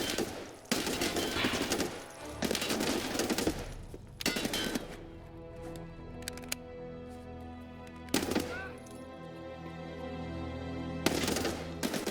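Bursts of automatic gunfire from a shooter video game, several loud rapid volleys separated by short pauses, with ringing tails and no talking.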